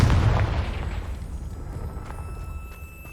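A Confringo blasting spell explodes in Hogwarts Legacy, a deep booming burst that is loudest at the start and fades into a rumbling tail with faint ringing.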